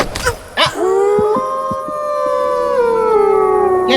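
A dog howls in the video game Project Silverfish, a loud, close, drawn-out wavering cry that rises and slowly bends downward, preceded by a couple of short yips.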